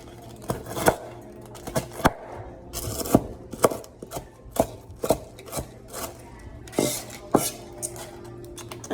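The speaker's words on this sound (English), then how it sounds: "So just dicing them down a little bit." A knife dices vegetables on a cutting board in quick, uneven bursts of sharp close chops, steady throughout with no talking.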